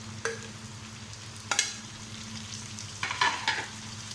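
Tomatoes and green chilies hit hot oil in a pan with potatoes already frying, a low steady sizzle punctuated by a few sharp spatula clacks, close and moderately loud, no voices.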